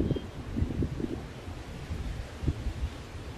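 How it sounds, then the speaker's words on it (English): Strong wind gusting through trees outdoors, a broad steady rush with low rumbling buffets and brief surges, close and fairly loud, with no voices. "As I speak, the wind getting higher."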